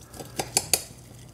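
A knife slices through a small fried arancino, giving three sharp clicks of the blade against the plate or board, spaced close together and near, with quiet kitchen room tone around them.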